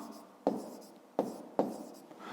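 Pen or pencil writing out a fifth-grade math exercise on paper, with three sharp tapping strokes spaced through soft, steady scratching, close and fairly quiet, with no voices.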